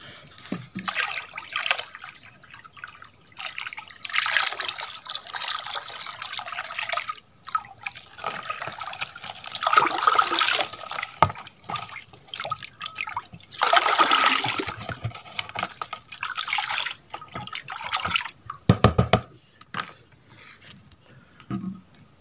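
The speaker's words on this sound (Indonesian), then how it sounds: "ini kita curahkan ke dalam air yang telah kita beri" Homemade liquid organic fertilizer poured into a container of water, a steady splashing gush that surges and fades several times, with trickles and drips between pours and no talking.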